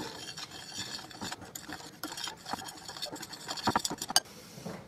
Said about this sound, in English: just give that a mix